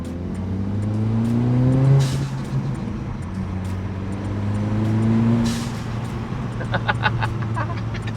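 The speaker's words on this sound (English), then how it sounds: "So this is a stock divert valve with a modification to make it into a blow-off valve." A 2023 Acura Integra with its stock diverter valve modified to act as a blow-off valve. The engine revs up twice, and each time the throttle lifts there is a sharp venting whoosh, followed by faint ticking near the end.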